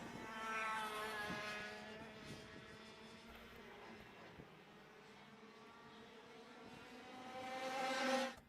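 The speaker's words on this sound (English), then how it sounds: "we have 3 karts going for the lead" Go-karts race at a championship event on the Sonoma track, their high-revving engines whining faintly at a distance and shifting in pitch as they pass, then swelling louder as a kart comes close near the end.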